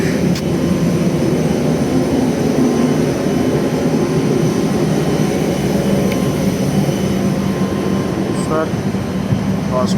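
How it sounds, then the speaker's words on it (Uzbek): A loud, continuous jet engine drone with whooshing air fills the scene while passengers board an airplane at Pulkovo airport, with faint chatter underneath. "Bilib ko'rib turganlaringda mana shu samolyotga minish jarayoni."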